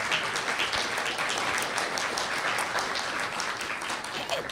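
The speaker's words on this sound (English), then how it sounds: "I'm going to make you applaud again" An evening audience at a museum art exhibition opening applauds steadily, a dense, continuous patter of many hands clapping for several seconds.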